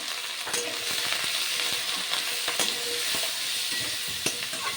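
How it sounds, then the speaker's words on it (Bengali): Fish curry frying in a pan as turmeric powder is stirred in, a steady loud sizzle with repeated scraping stir strokes throughout, no voices. "ভালো করে নাড়াচাড়া করে হলুদ মিশিয়ে নিচ্ছি, যাতে কাঁচা হলুদের গন্ধটা আর না থাকে"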